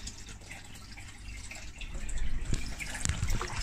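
An aquarium filter pump running, moving water with steady dripping and trickling, growing louder and splashier toward the end.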